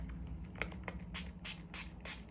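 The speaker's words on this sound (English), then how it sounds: "and spray it on my bond" Hair-extension removal solution is sprayed onto a keratin bond in a series of soft, quick spritzes. The hissing bursts sit close and faint over a low steady hum.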